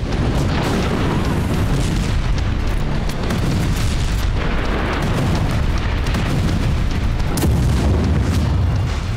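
Heavy war-zone explosions and missile strikes boom continuously and loudly, dense rumbling blasts overlapping with sharper bursts near 7 seconds, no speech.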